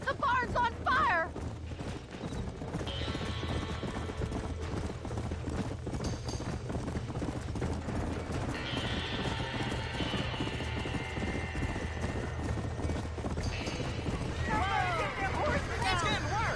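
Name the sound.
horses in a burning barn, Red Dead Redemption video game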